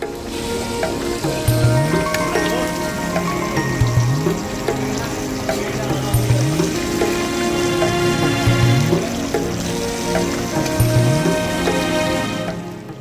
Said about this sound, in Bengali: পাশেই এই ভাই আমার ইলিশটি বেশ যত্ন সহকারে ফ্রাই করছিলেন